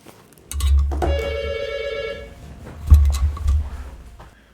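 A telephone rings indoors, two bursts of ringing with a short gap between them, fairly loud and close with no talk over it.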